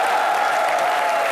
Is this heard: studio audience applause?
yes